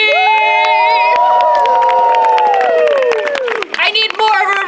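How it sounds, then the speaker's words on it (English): Loud audience cheering, shouting and clapping at an acrobatics variety show, close and continuous, with high whoops and voices sliding over the clapping before a short dip near the end. "I need more of an applause for the"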